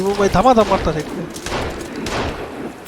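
Gunfire cracks in the survival video game Sons of the Forest as shots hit enemies, with a quick cluster of sharp bursts. An excited voice talks over the first second.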